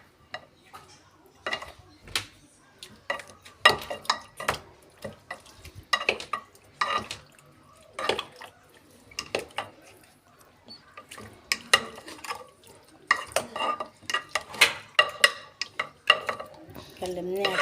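Chicken pieces are tossed and mixed by hand in a KFC-style marinade, making a run of wet squelching, slapping strokes in an irregular rhythm, close up with no talking.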